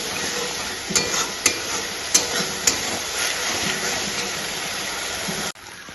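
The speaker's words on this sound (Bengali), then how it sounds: "এবার ভালো করে কিছুক্ষণ মশলাটা কষিয়ে নেব।" Spice paste of cumin, ginger and chili frying and being stirred in a pan for a Bengali doi potol dish, a steady close sizzle with a few sharp spoon clacks against the pan, ending abruptly.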